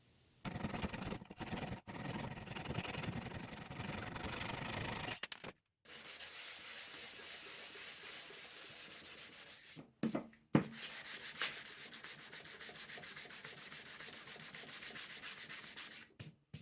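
Continuous rough sanding on wood, a steady abrasive rasp that stops briefly and resumes, close and fairly quiet.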